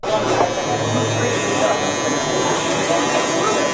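A Braun electric razor buzzes steadily and closely throughout, with a voice heard over the hum.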